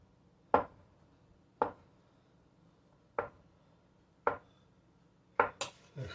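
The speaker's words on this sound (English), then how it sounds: "I use a stick and just cut it long ways" A knife cuts a stick of butter into small pieces on a board, giving about six sharp, evenly spaced taps close by, the last few coming faster.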